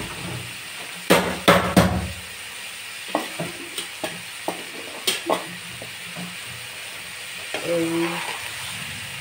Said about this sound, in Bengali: সব মশলার সাথে ভালোভাবে ভুনে নিব